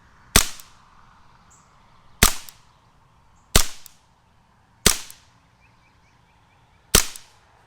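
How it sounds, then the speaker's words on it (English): Five sharp, loud single shots from a WWII-style BB gun fired semi-automatically at a target, evenly spaced about a second or two apart, each a crisp crack with a short decay in a quiet setting. "So we're going to take a couple shots at the target there."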